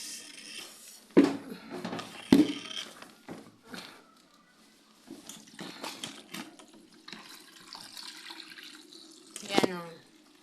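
A faucet runs into a bucket being filled with water for mopping the floor, an intermittent gush close by broken by clunks and handling noises, with someone talking over parts of it.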